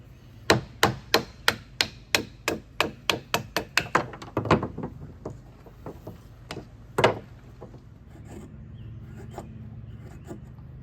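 A Mora Companion knife with a Scandi grind feathering a piece of wood gives a quick, evenly spaced run of sharp cutting strokes, close and crisp, then a few scattered scrapes and one last firm cut before it goes quiet.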